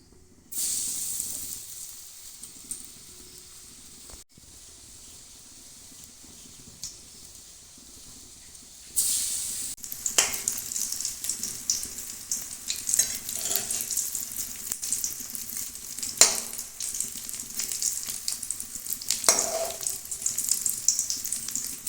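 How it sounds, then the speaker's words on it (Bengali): Kebabs fry in hot oil, a soft hiss at first that grows into a louder, busier sizzle with bursts of crackling. "বাকিগুলোও আমি ভেজে নেব।"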